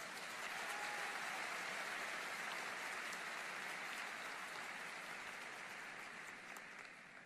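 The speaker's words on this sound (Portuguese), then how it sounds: "Pode aplaudir essa palavra tão linda." A church congregation at a Frei Gilson sermon in Boston claps in a dense, sustained roar of applause that holds steady and then slowly fades, with no voices over it.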